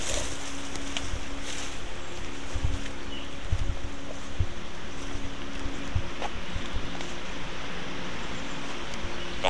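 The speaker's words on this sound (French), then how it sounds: "il y a un bruit, mais le vent, le vent est énervé aujourd'hui" Strong wind roaring and buffeting across a microphone on a large open site, a loud continuous rush with gusty low thumps throughout, no talk.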